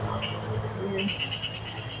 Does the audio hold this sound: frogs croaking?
yes